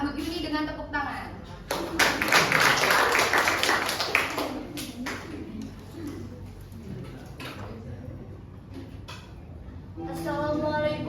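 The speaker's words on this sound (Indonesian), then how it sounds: "Langsung saja kita sambut Yuni dengan tepuk tangan" Applause from an audience at a school's 55th anniversary celebration welcomes a student about to recite poetry. Claps swell for about three seconds, then fade under a presenter's voice.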